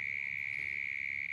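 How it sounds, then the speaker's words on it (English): Summer cicadas in a park drone in one steady, unbroken high-pitched buzz, moderately distant and fairly quiet, with faint low background noise and no voices. "we have those buzzing insects we call cicadas"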